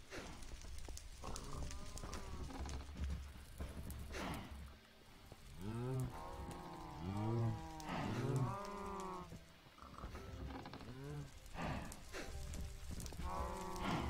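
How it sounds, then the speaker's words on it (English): Cows in the video game Minecraft moo repeatedly, several drawn-out lowing calls overlapping in the middle of the stretch, over a steady background of game ambience and faint clatter. "Come on, cows."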